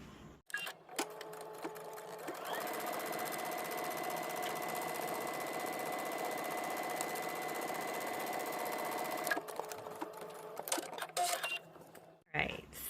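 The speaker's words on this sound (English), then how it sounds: "We're going to stitch right up under that dot all the way down to the bottom of the hem." Sewing machine stitching fabric pieces along a seam down to the hem, running in one steady whirring burst of about seven seconds, close up, with brief handling noises before and after.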